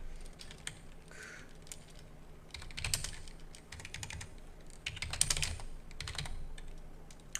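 Fast bursts of typing on a computer keyboard while entering a workspace name, with clusters of crisp key clicks separated by short pauses, close and fairly quiet.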